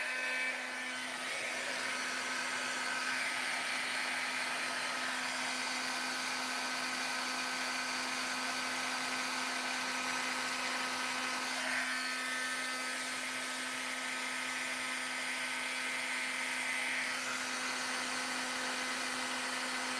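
Heat gun melting embossing powder on black cardstock: a constant high-pitched electric whine with a steady fan hum, close and even for the whole stretch, with no voices.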